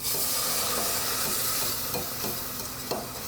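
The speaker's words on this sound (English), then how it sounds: "I bet we could whisk it to make it smoother" Flour and milk whisked together in a pot for a mac and cheese sauce, a continuous bright swishing and scraping with faint clicks of the whisk against the pan, close and steady with no talk.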